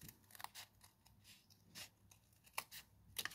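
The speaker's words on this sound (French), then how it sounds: "Je prends mes ciseaux." Scissors snip through a cardboard toilet paper roll in a quiet room, a series of short, crisp, faint cuts at an uneven rhythm, close to the listener.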